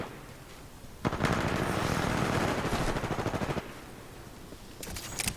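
Gunfire in the video game Titanfall 2, a sustained rapid automatic volley lasting a few seconds, loud and close, with another short burst near the end and faint battle noise around it.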